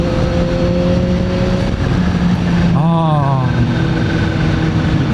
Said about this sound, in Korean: 블로우 밸브 소리 너무 듣기 좋다